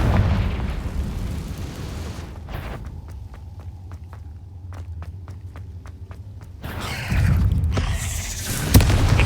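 A Confringo spell blast in Hogwarts Legacy during combat, a deep booming burst with rumbling low end, followed by a quieter stretch of ticking pops before another loud burst near the end.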